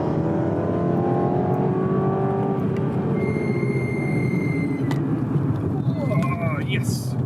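BMW 230i driven hard around the Nürburgring, a steady close engine drone with rising and falling revs under continuous speech from inside the car.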